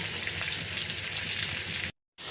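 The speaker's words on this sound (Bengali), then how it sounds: "আমি কিন্তু একেবারে কড়া করে ভাজিনি একেবারে নর্মাল করে ভাজিনি মিডিয়ামভাবে ভাজি করেছি" Pieces of catla fish fry in a pan with a steady, dense sizzle of hot oil, close and constant, then cut off abruptly near the end before briefly resuming.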